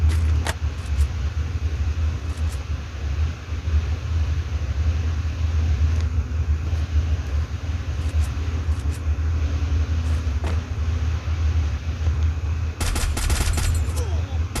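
Gunfire from the Free Fire battle-royale video game, with scattered sharp shots and a dense rapid burst near the end over a steady low engine-like rumble; grenade blasts are not clearly distinct.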